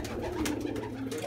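A pigeon coos softly in short, low throaty pulses close by, over a steady background hum, with no talk.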